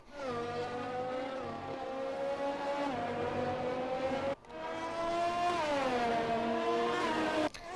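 Formula 1 cars race in a video game at the Melbourne Grand Prix. A loud, continuous engine whine rises and falls through gear changes, a second car cuts in abruptly partway through, and no one talks.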